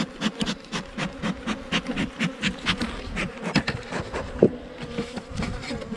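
Honey bees buzz steadily throughout a hive inspection, a dense droning swarm close by with repeated rising swells and occasional soft wooden knocks and rubbing from frames being handled.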